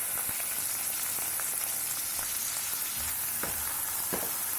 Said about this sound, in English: Fry it briefly till it releases its wonderful aroma.